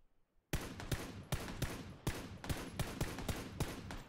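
A loud, close volley of automatic gunfire from PUBG starts abruptly after a brief silence and runs as a steady burst of rapid, evenly spaced shots until the end.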